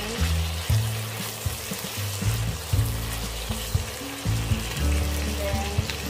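Vegetables for lumpiang sariwa cook in a pan with a steady, close sizzle and crackle, under a low humming drone and a few soft knocks.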